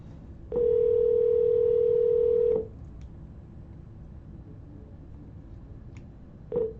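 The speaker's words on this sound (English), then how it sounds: "Yes, you are supposed to hear a phone ringing." An outgoing phone call gives one long, steady ringback tone, then a pause of quiet line hiss, and the next ring starts just as the clip ends.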